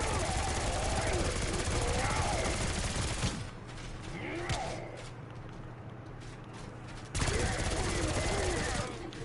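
Sustained gunfire from a video game weapon, rapid continuous bursts dense with mechanical crackle, paused briefly midway before resuming strongly, with a speaking voice over parts of it.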